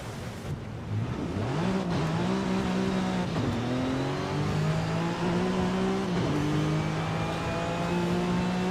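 Twin-turbo car engine in Forza Horizon 5 revving steadily and loudly through rising gear pulls, with a brief dip and recovery midway, its droning tone climbing and holding throughout without any talk.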